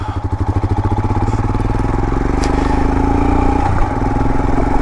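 A 2022 Royal Enfield Himalayan motorcycle pulls away, its single-cylinder engine thumping in a clear rhythmic pulse that quickens and then settles into a steady, loud drone close to the microphone.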